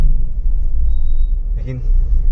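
Maruti Swift petrol car in second gear with a gear problem, a loud low engine rumble running continuously with a brief voice partway through.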